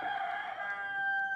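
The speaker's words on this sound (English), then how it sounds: "There's a peacock and chickens downstairs, and they've been going all day." A rooster crows once, fairly close and clear, with a drawn-out call that holds steady to the end, part of a group of chickens and a peacock kept downstairs.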